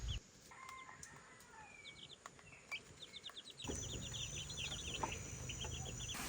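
Chickens cluck and chirp softly in the background, with small birdlike peeps and an outdoor hum that grows louder halfway through.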